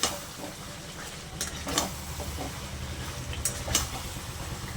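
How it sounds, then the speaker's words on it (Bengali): Mutton being sautéed and stirred in a pan, a continuous sizzle under a low hum with scraping stirs and a couple of sharper clacks of the spoon against the pan; no one speaks. "এবার এটাকে খুব ভালো করে আমি কষিয়ে নেব।"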